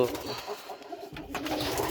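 Pakistani and racing pigeons coo softly and repeatedly close by inside a loft, with a voice speaking over them.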